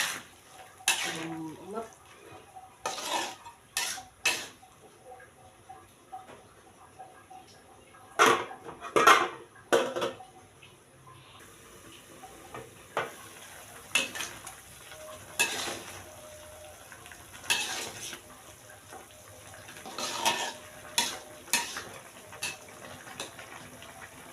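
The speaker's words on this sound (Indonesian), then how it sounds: "Sambil kita aduk ya teman-teman" Beans and shrimp stir-fried in a pan, stirred in repeated bursts of scraping and clatter over a faint sizzle, with brief speech in between.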